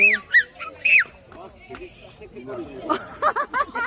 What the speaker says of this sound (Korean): 새떼들이 다닐 때 저 소리가 나는 것 같은데